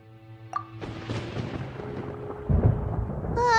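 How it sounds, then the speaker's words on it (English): Rolling thunder rumbles through a stormy scene in the game Genshin Impact, a low sustained roar that swells after a sharp early crack and grows heavier near the end, with no talking. "Paimon hears thunder!"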